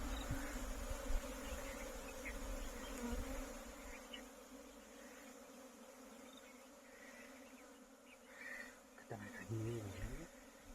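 A swarm of Asian honey bees (Apis cerana indica) on a farm drones with a continuous, dense buzz that carries on throughout, and a voice speaks briefly near the end.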